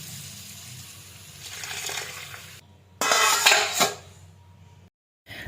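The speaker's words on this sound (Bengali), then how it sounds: "একবার ধুয়ে নেব মুসুর ডালটা, একবার ধুয়ে তারপরে ভিজিয়ে দেবো" Red lentils (masoor dal) are washed in a pot: water sloshes and trickles as the dal is stirred and swished, with a louder burst of swirling and clinking partway through, then a brief silence before the noise resumes.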